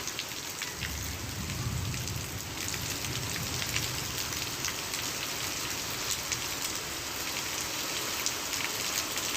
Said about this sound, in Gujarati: અમરેલી તાલુકાના નાના ભંડારિયા ગામમાં ભારે વરસાદ।